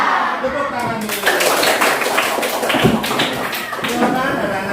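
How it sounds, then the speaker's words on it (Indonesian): Classroom of schoolchildren clapping their hands together after an ice-breaking chant, a dense, continuous patter of many claps throughout, close and loud, with a teacher's voice speaking over it. "Tepuk tangan dulu."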